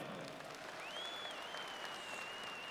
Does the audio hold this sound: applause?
yes